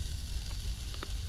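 Pre-chopped onion sizzles in hot oil in a pan while cooking outdoors in the woods, a steady, fairly quiet frying hiss with a few faint crackles and no talking.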